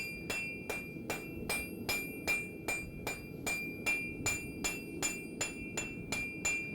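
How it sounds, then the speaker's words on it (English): Steady, evenly spaced hammer blows ring out on a Kanka anvil as hot knife steel is forged, each strike sharp and metallic over a low background rumble, about two strikes per second, close up. "you're seeing a close-up of not only some heat and hammering, but of our Kanka anvil"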